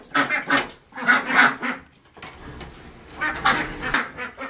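Barn ducks quack loudly in several close bursts of overlapping calls, with a short lull between groups as the flock waits to be let outside.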